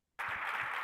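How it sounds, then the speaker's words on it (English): Applause breaks out abruptly after a short silence at the Indiana Conference on Citizenship, a sudden dense burst of clapping from the audience that holds steady to the end. "Yuval a round of applause"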